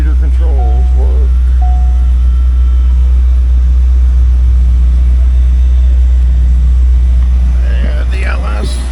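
The LS1 V8 of a 1998 Chevrolet Corvette idles close by, a deep, loud, steady rumble that goes on throughout, with a voice speaking over it.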